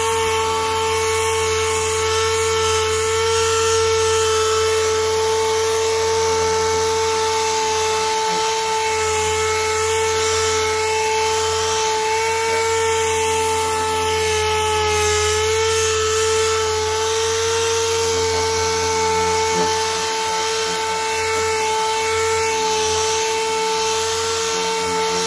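A power sander with 2000-grit paper works over a faded, yellowed car headlight, a loud continuous high whine with steady tonal hum held unbroken for the whole stretch, with no talk.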